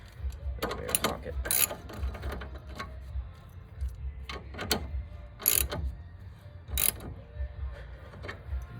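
Ratchet with a 17 mm socket tightening a castle nut during ball joint work on a 1981 Toyota Celica: a series of sharp, close clicking bursts in irregular rhythm over quiet background.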